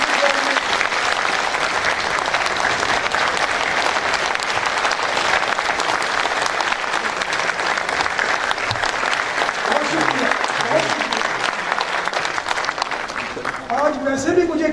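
Sustained audience applause fills an award ceremony hall, loud and steady throughout, with a few voices and cheers rising near the end.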